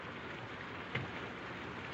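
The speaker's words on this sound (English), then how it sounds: "It's this rain, I guess." Steady rain falls in an old 1932 drama film, a soft, even hiss of drops continuing throughout with one brief louder patter midway; no one speaks.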